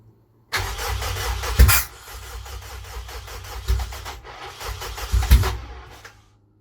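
A Honda Civic EJ9 with a swapped K-series engine cranks over repeatedly, the starter churning loudly in two long bursts with a brief lull between them, close by and without the engine catching cleanly.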